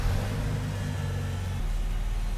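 A parked car's engine idles steadily with the ignition switched on for an OBD II diagnostic check, giving a continuous low, even rumble close by and no other sounds.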